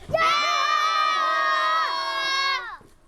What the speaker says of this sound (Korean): 그래 야호 한번 해봐 하나 아니 하나 둘 다시 하나 둘셋